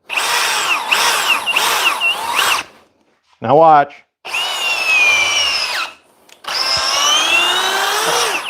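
Several bursts of a Milwaukee M12 cordless power drill whirring at close range, loud spinning runs separated by short pauses, one brief rising whine in the middle, with a few spoken words before it starts.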